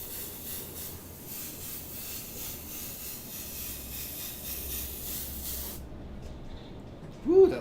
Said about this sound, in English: my contacts do not like this airbrush paint